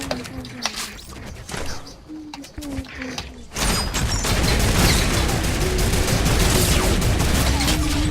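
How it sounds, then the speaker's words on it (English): Gunfire in the Fortnite video game, with a sudden loud burst of shots about midway that gives way to dense, sustained noisy game sound. Quieter in-game ambience with cooing and voices comes before it. "I got sniped!"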